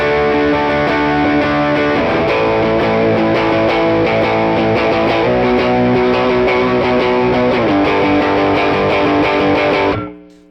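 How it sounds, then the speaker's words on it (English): An electric guitar with overdrive plays chords for about ten seconds, crunchy and saturated, then the last chord rings out and fades. "Alright, so this is overdrive,"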